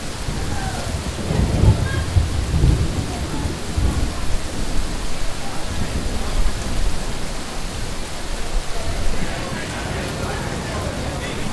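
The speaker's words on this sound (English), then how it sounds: "There's nothing more on this planet that I like more than rain, lightning, and thunder." Steady rain pours down in Kuala Lumpur City Centre while deep rolls of thunder rumble, loudest in the first few seconds, with faint voices in the background.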